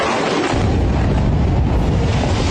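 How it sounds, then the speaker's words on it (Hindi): A bombing blast from an F-15 strike on a bunker in Lebanon roars as one loud, sustained explosion with a heavy low rumble, filling the whole stretch with no voices. "F-15 से बमबारी, बंकर में मची तबाही।"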